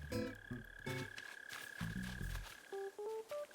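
A buried mole cricket in the Animal Crossing video game gives a low, buzzy, croaking chirp in repeated pulses, mixed with soft, tonal game music and effects, with no talking.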